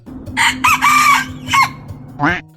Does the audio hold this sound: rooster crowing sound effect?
yes